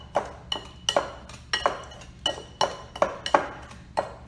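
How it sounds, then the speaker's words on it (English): A pastry cutter works dry crumble ingredients in a bowl, giving a series of sharp metallic clinks and scrapes against the bowl at an uneven rhythm, close and clear with no talk. "we're just going to kind of mix all of those dry ingredients together in our bowl"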